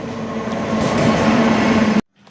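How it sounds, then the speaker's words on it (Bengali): A train rumbles and clatters steadily into New Alipurduar station, a loud continuous drone with faint squeals, cutting off abruptly near the end. "हमारा ट्रेन आ चुका है"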